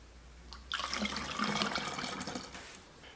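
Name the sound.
vinegar poured through a funnel into a jar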